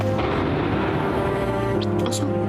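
Airstrike explosions in Syria come as a continuous heavy, rumbling roar of blasts that fills the whole moment, loud and dense, with a sharper crack near the end.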